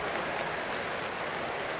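Steady crowd applause fills an arena in the NBA 2K25 basketball game, a continuous dense clapping wash at moderate level.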